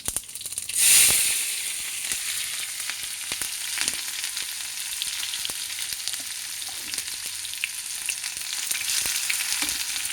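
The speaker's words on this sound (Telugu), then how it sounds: "ఉల్లిపాయలు వేగాలండి." Onions with cumin fry in a pan for chole, a steady, bright sizzle and hiss opening with a sharp burst as they hit the oil, then settling into continuous crackling with faint stirring taps.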